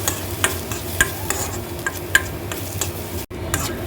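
Garlic cooking in a steel pan, stirred with regular scraping and tapping strokes over a low sizzle, close and clear, with a brief dropout near the end.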